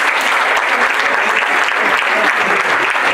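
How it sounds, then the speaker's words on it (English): An audience breaks into dense, sustained applause at a public talk, clapping for the young people who stayed to the end, with a steady, loud wash of hands and no break. "I also want us to have a round of applause for like young people who stayed all"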